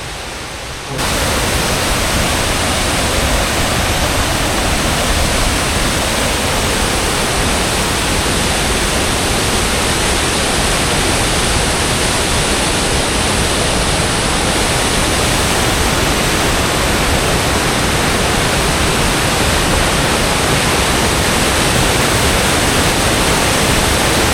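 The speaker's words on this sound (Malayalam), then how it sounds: "ഇത് അരുവിക്കുഴി വെള്ളച്ചാട്ടമുണ്ട്, പീരുമേട്ടിൽ നിന്ന് വരുന്ന വെള്ളമാണ്." Loud, steady roar of rushing water at the Aruvikuzhi waterfall, fed by streams from Peermade and falling over rock, a dense broadband wash that stays constant and close throughout with no voices.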